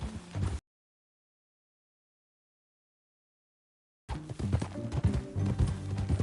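Horse hooves clip-clop in Red Dead Redemption 2, with a short burst of hoofbeats, then several seconds of total silence, then a busier stretch of rhythmic, close clopping.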